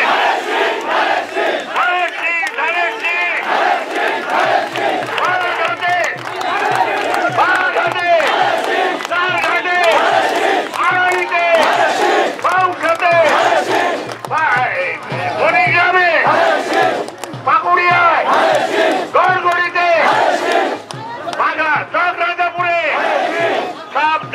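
A large crowd at a Bangladeshi election rally chants political slogans in loud, rhythmic unison, voices surging in repeated bursts throughout, dense and close with no pauses.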